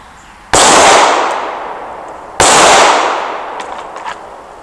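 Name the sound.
Smith & Wesson M&P pistol gunshots at shooting range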